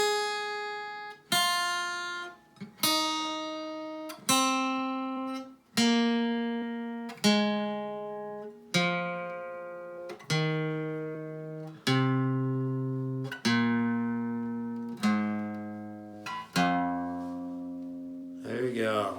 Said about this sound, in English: that was the minor pentatonic scale.